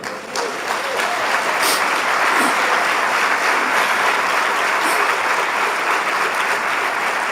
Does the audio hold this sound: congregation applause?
yes